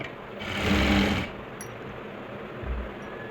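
A sewing machine stitches an Afghani salwar in one short burst of about half a second, surrounded by quiet room hum and a faint thump near the end.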